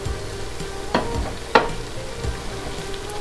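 Tomatoes and green peppers added to lightly fried onion and garlic, crackling in the pan under a low steady sizzle, with a few distinct stirring clacks spaced out over a few seconds.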